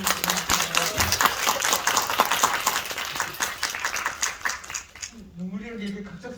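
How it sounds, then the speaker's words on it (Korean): Applause from an audience at a Korean stage event for two actors, dense steady clapping for about five seconds before a voice speaks near the end. "우리 김혜림과 화영이한테 박수 한번"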